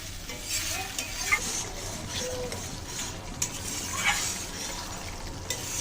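Close up, a spice paste made with mustard is stir-fried in oil in a pan, giving a steady sizzle broken by soft scrapes and the occasional clink of the spoon, with no one speaking.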